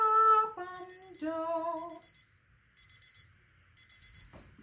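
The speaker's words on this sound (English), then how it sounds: "Apparently we have an alarm here." An alarm goes off with a short descending run of tones followed by repeated bursts of rapid high electronic beeping in evenly spaced groups, clear and close, with no one speaking.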